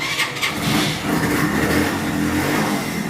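A Suzuki GS150 motorcycle fires up on its electric self-starter with a brief whir, then its engine catches and revs loudly and close by, settling into a strong steady running note.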